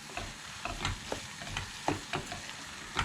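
Dried fish thokku with curry leaves cooking down on a stove, a low sizzle under repeated scraping stirs in an irregular rhythm, close and unvoiced.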